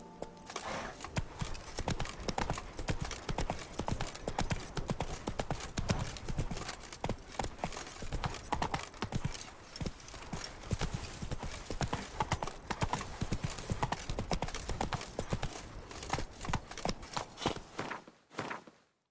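A horse's hooves clip-clopping steadily in the video game The Witcher 3: Wild Hunt, a continuous, even walking rhythm that is close and clear, fading out at the very end.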